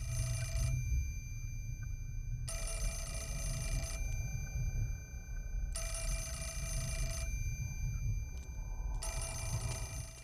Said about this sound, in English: It just seems courteous to always answer a ringing phone. Just wouldn't seem right leaving it here ringing forever